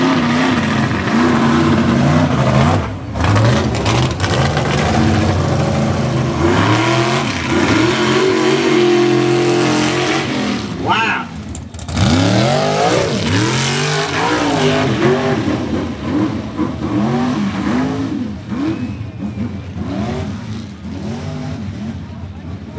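Race trucks charge around the Bithlo dirt track and jump over the hills, their engines revving, rising and falling with repeated surges. The roar stays loud and continuous, with brief dips as the trucks pass, under steady commentary.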